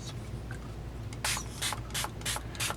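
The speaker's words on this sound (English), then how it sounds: "now we will spray our water here" Water sprayed from a bottle onto paper flower petals while making peonies, five quick hissing squirts in a steady rhythm after a quiet start, close by and fairly faint.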